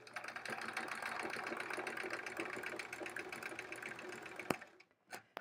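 A sewing machine stitches around quilt-as-you-go sampler blocks with a steady, close mechanical whir and rapid needle rhythm, stopping near the end with a brief click.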